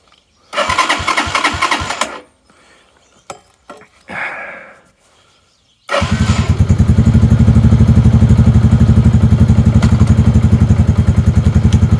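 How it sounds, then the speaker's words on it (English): A Lifan King motorcycle's starter motor cranks in a burst of rapid pulses, then falls quiet apart from a few clicks. A loud, steady, continuous mechanical drone follows and runs to the end, close up with no talking. "All we're doing is just pulsing with the starter motor like the headlight does as well."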